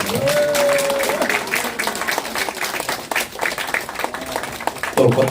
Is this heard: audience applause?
yes